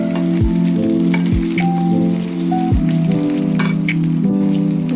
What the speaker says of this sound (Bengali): খুব বেশি না, অল্পই ভাজা হবে